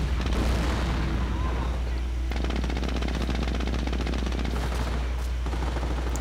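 Off-map artillery fire in a World War II strategy game, a dense, continuous rumble of distant booms and rapid gunfire crackle that thickens into a steady barrage, with voices murmuring underneath.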